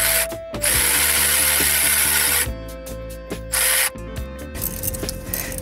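A ratchet wrench clicking steadily as hose clamps come off a Detroit Series 60 diesel engine, close and fairly loud, with rapid pawl ratcheting bursts broken by brief pauses and a few clanks.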